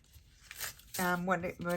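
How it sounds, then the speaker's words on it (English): A sheet of paper torn by hand for a collage, a short rough rip close by that comes after a bit of quiet handling, with a person talking over it. "Let's see if I can tear it"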